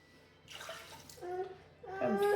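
Water is poured from a container into bread dough in a home kitchen, a short gurgling splash that starts, pauses briefly, then pours again more strongly, close and clear.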